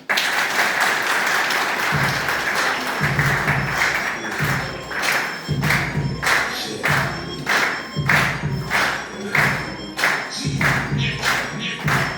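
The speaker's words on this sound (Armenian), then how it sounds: "ծափահարենք" Applause for a girl walking into a school classroom: steady, loud group clapping for about twelve seconds, with rhythmic low thuds beating underneath from around two seconds on.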